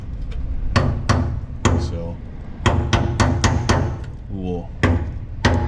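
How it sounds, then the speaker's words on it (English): Claw hammer tapping a part back into place on a 1953 Buick during an overhaul: a dozen or so sharp metallic hits in irregular clusters, close and loud, with someone speaking briefly between them. "I'm using a claw hammer, not a ball peen or a proper automotive hammer"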